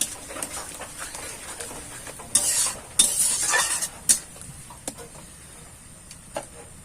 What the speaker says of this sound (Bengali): এবার আমরা মশলাটা কষে নেব।